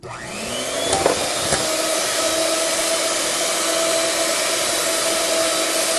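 A steady, loud electric mixer whirs continuously after spinning up, beating chocolate avocado mousse, a constant motor drone with a faint knock near the start.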